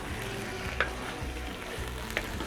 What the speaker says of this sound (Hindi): इसे भी अच्छी तरह से फ्राई कर लेंगे लहसुन अदरक के साथ गोश्त को भी